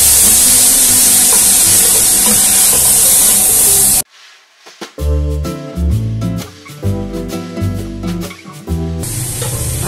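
Chopped onions and green peppers sauté in a hot pan for a Syrian-style Indian kebab, giving a loud, steady, close sizzling hiss that cuts off abruptly partway through and gives way to music.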